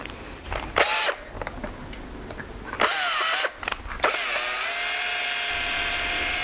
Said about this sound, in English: I'll use the tuners to show me where to drill the new screw hole.